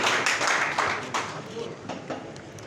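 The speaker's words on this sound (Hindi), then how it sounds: "जोरदार तालियों के साथ स्वागत।" Clapping from a crowd welcoming a speaker at a Modicare business meeting in Farrukhabad, a dense, fairly loud patter of hands with some voices mixed in underneath.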